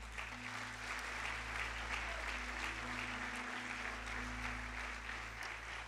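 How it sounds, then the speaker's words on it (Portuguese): A church congregation applauds during a Portuguese-language sermon, giving sustained, even clapping at moderate level with a low steady hum underneath. "Dê um aplauso ao Senhor."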